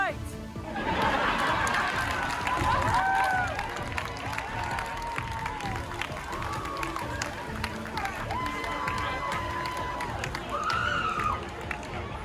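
A crowd at a costume contest cheers, laughs and claps loudly throughout, a dense roar of many voices with whoops and shouts rising above it, and people talking mixed in.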